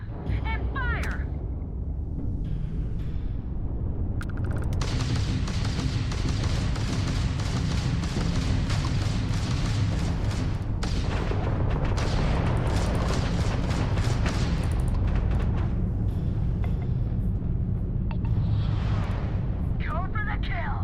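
Spaceship weapons in Starfield fire through a sustained space battle, a dense run of booming, thudding blasts and explosions that stays loud and continuous throughout.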